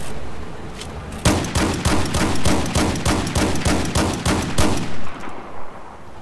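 Frag rounds fire in Battlefield 4 as a rapid, evenly paced string of about a dozen loud, close blasts, which then give way to a few duller booms fading out.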